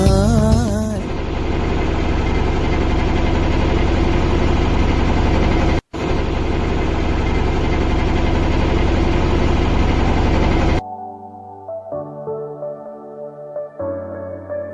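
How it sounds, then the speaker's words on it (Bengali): A motorboat's engine chugs loudly and steadily for about ten seconds while crossing the Muriganga River, briefly cutting out once, then gives way to quieter tonal sounds at the end. "এই ভটভটি নৌকা করে পারাপার করতে সময় লাগে চল্লিশ মিনিট"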